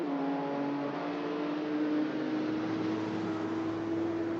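A Porsche race car at a Le Mans exhibition event roars with a steady, loud engine note that climbs gradually in pitch as it revs, heard up close and continuous with no talk.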